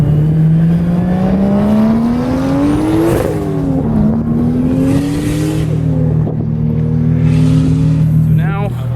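A 2008 Lexus IS 350 drives through a canyon, its engine droning steadily from inside the cabin, with rising revs through gear changes, loud and continuous.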